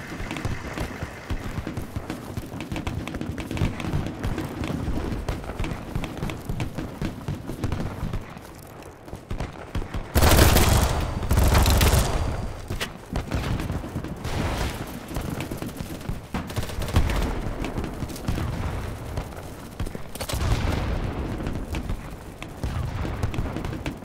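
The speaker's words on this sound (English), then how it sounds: "That's the enemy shooting." Enemy gunfire in the online shooter BattleBit Remastered, a steady rattle of shots and footsteps that swells into a heavy, loud burst midway, then settles back into continuous firefight noise, with faint talking in places.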